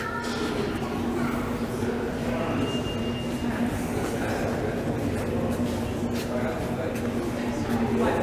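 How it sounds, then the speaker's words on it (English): A train rumbles steadily nearby on 5th Avenue in Verdun, Montreal, with a constant low drone and a faint tonal hum, loud and continuous for the whole stretch. "When's the other train coming? I hear it coming."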